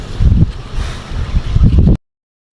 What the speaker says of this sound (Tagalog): Sa sobrang hangin, ililipad na ako.